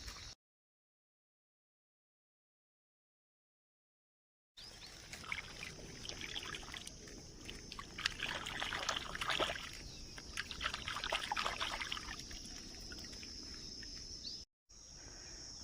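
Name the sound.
washing a mango in spring water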